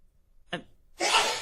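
A short sharp intake followed by a loud, breathy burst of a sneeze, close and sudden after near silence, during a deposition-style questioning.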